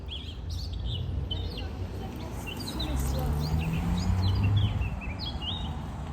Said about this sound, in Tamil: அந்த பறவைகள் சத்தத்தை நம்ம அப்படியே கேட்க முடியுது